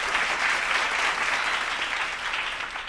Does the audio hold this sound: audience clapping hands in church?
yes